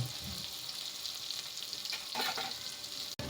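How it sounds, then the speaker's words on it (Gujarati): Masala spices sauté in hot oil in a pan for Gujarati dudhi chana curry, a steady close sizzle and crackle with a brief stirring swell partway through. "મસાલાને આપણે એક મિનિટ માટે સાતળી લઈશું"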